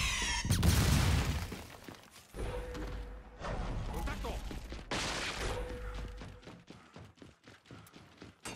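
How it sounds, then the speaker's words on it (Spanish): A flashbang grenade in a video game goes off with a loud, close burst near the start, followed by scattered thuds, crashes and shots while voices talk. "¡Va una granada de destellos!"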